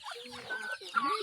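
Chickens cluck close by in a farmyard where a new chick is present, a short run of throaty clucks and squawks without talk.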